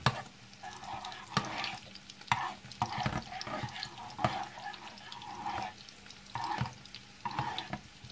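Tofu is stirred in sweet and sour sauce in a pan, soft repeated scraping and wet sloshing strokes over a quiet simmer, fairly faint.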